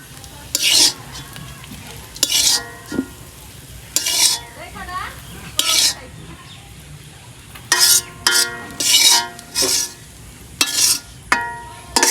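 Beef tongue bhaji fried and stirred in a pan: repeated loud scraping bursts of a spatula against metal, spaced irregularly over a low background sizzle, close up.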